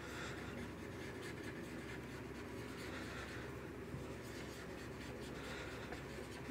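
Steady chalk or marker writing on a board, a continuous scratchy rasp of strokes running evenly and fairly close throughout, with no voices over it.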